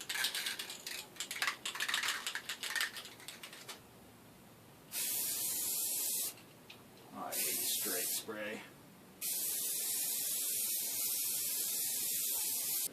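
Clear coat sprayed from an aerosol can onto a fridge: three long steady hissing bursts, close and loud, following some earlier handling clatter.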